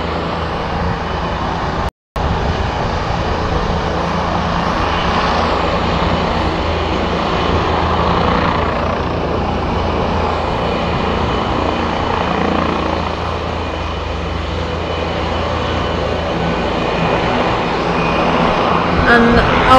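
A King Air 250 turboprop engine drones loudly and continuously at Blackpool airport, a steady broadband roar with a low throbbing undertone that holds for the full span, with speech mixed in.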